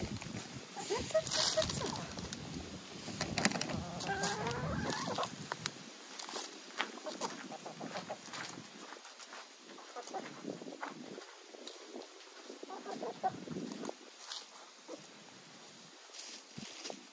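Laying hens in a freshly cleaned coop cluck and murmur on and off at a fair distance, with scattered rustling and a person talking quietly among the birds.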